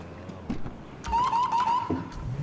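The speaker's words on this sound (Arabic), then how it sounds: "وعندنا ديجا صوت النجدة هذيا" Police siren from a video game police mod set in Tunisia, a rising wail that enters midway and holds briefly over background game noise.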